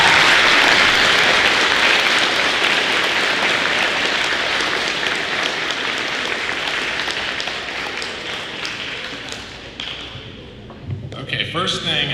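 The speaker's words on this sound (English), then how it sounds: "everyone please give a round of applause to your amazing teachers" Middle school students and families at a 2021 academic awards night give their teachers a long round of loud applause that gradually dies away, followed by brief thumps and a voice at the end.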